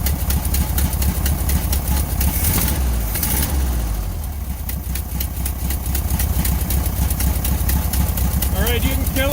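A 1968 VW Bus engine idles loud and close with a steady low rumble and a rapid ticking puff from an exhaust leak, and a brief rev change midway.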